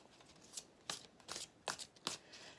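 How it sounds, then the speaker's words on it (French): Tarot cards are laid down one after another on a table, giving five or six soft, papery slaps and slides spaced about half a second apart, quiet and close, with no voice. "je vais installer les 9 cartes"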